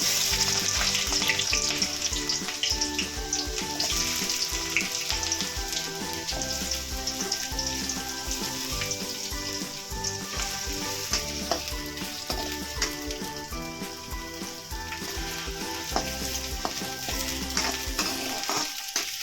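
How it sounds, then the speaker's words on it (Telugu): Chopped onions fry in hot oil, a loud, continuous, close sizzle with stirring under background music. "ఇది గోల్డెన్ బ్రౌన్ వచ్చేంత వరకు వేపుకోవాలండి."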